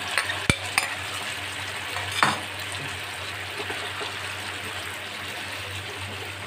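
Mushrooms being stirred into a bubbling chili sauce mixture in a pan for chili mushroom, giving a steady soft sizzle with a few sharp utensil clicks and one scraping stir, close and continuous, with no talking.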